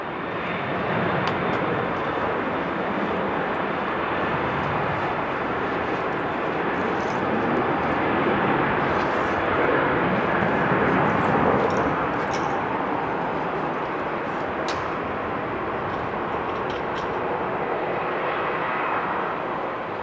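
A fixed-wing airliner landing on an airport's inbound runway, its engine roar a steady, broad, continuous rumble that holds loud and even for the whole stretch with no talk over it.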